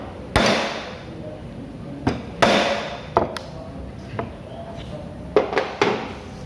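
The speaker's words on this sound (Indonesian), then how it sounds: "Setelah itu dipukul dengan menggunakan palu pada bagian atas hollow punch." A hammer, plastic or copper, strikes the top of a hollow punch to cut a 12.5 mm hole during automotive bench work, giving sharp separate knocks at irregular intervals, some loud and some lighter, with no voice in between.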